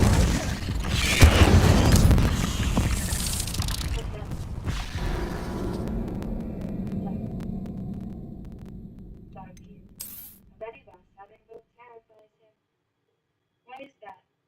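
Spell effects in Hogwarts Legacy: booming, whooshing magic bursts that are loud at first and fade away over several seconds, leaving near silence with short faint sounds at the end.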